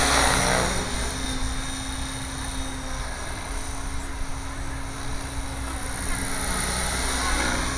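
A Gaui 550 RC helicopter hovers nearby with a steady, droning rotor whine and hum that holds throughout at moderate level.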